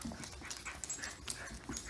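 A Teckel (dachshund) puppy pants softly and lets out faint little whimpers, quiet and close, with no voices.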